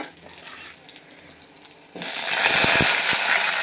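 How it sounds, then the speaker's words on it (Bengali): Potatoes drop into a small amount of hot oil tempered with nigella seeds and green chillies, setting off a sudden loud, steady sizzle after a quieter stretch, with a few clacks of the pan or spoon. "এইটুকু তেলের মধ্যে কিন্তু আলুগুলো দিয়ে দিই।"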